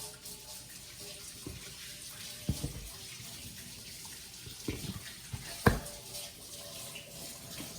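Tap water runs steadily into a sink while hands are washed in a kitchen during pretzel making, a continuous hiss broken by a few splashes and thuds.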